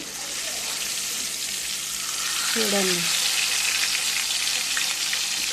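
Telangana-style fish fry bubbling in hot oil makes a loud, constant sizzle close by, with a short spoken remark over it.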